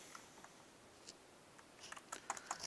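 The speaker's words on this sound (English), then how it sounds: "In the search bar, type in" A computer keyboard is tapped quietly to type into a search bar, with a few isolated clicks followed by a quicker burst of soft keystrokes, faint and close in a hushed room.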